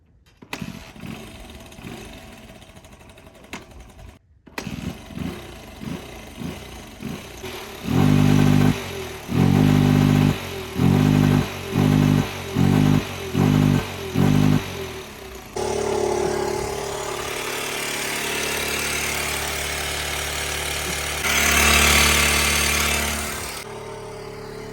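Motorcycle engine fitted with two large mufflers, starting up and then revving in a run of sharp, evenly spaced bursts before settling into a loud, steady running drone, heard close and with no talking.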